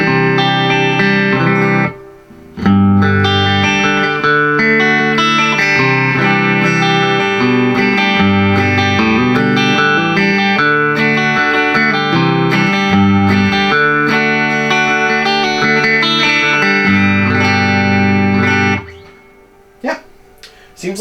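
An electric guitar played through a Fender Tone Master Twin Reverb amp, loud sustained chords ringing out with reverb and a brief gap early on, then fading to a trailing tail at the end.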